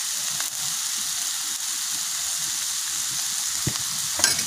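Papaya flowers stir-fried in a pan, giving a steady, close sizzling hiss throughout with faint scraping of stirring and a brief clatter near the end.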